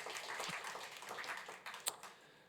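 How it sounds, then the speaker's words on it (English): Faint, steady applause from an audience at a university innovation showcase after a startup pitch, a soft dense patter of many hands that thins out toward the end. "Round of applause for Biotic"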